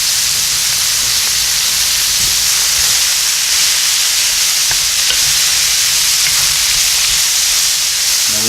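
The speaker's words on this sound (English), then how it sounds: "Now we're gonna put our mushrooms in." Mushrooms hit a hot pan for chicken marsala and set off a loud, steady sizzle with bright hissing steam, with a few faint stirring clicks underneath the constant frying noise.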